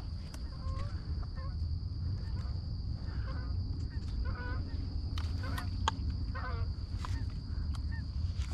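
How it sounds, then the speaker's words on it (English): Wild geese honk during an early-September goose hunt, scattered calls sounding distant and airborne over a constant low background rumble and a steady high whine. "You hear honks. Sound like they're airborne."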